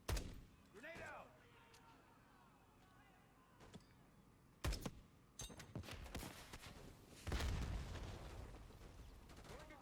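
A grenade blows up during a Black Ops 6 campaign firefight, sounding as a sharp broadband blast followed a few seconds later by a second heavy burst and sustained rumbling gunfire, with a voice speaking over the action.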